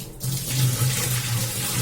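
A steady stream of water pours continuously over a clay pot, close by, with a low hollow resonance underneath, like liquid splashing into a vessel.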